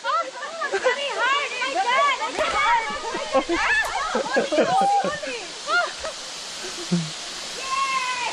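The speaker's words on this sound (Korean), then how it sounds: "와 여기 좋다 폭포" Waterfall on a trekking route in Palawan, a steady rushing wash of falling water running throughout, with lively chattering voices and laughter close by over it.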